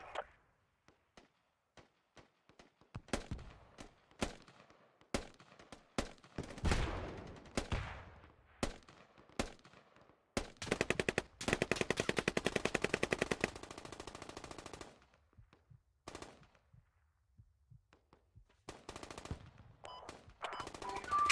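Gunfire in the military shooter game Squad: scattered single shots and short bursts build into a sustained automatic-weapon stream midway, then thin out to sparse distant pops, with no talk.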